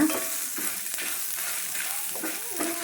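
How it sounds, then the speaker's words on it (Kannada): Long chillies frying in a pan, a loud continuous sizzle broken by scraping stirs at a steady pace, close up and without speech. "ಮೆಣಸು ಹಾಕ್ಕೊಂಡಿದ್ದೇನೆ ಉದ್ದದ್ದು. ಇದನ್ನು ಸ್ವಲ್ಪ ಫ್ರೈ ಮಾಡ್ಕೊಳ್ಳೋಣ."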